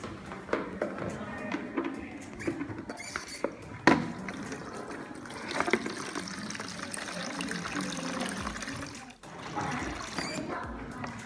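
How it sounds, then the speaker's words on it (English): Water poured into a measuring basin for a lung tidal capacity test, heard as a steady close splashing fill that runs for several seconds, with a sharper knock partway through and a brief break near the end. "First, let's pour the water inside this basin."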